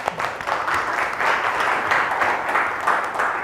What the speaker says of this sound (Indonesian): Oke, kita aplaus dulu buat untuk diri kita.